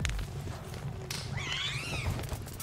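Persian-cat-like creature in the video game Palworld giving one short, wavering meow over dense, steady game background noise.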